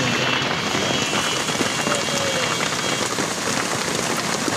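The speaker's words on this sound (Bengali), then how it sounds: "দেখতে পাচ্ছেন খুব বৃষ্টি হচ্ছে এখন যশোর শহরে।" A steady downpour falls on Jessore town during a morning storm, its loud, even patter of raindrops on surfaces continuing without a break.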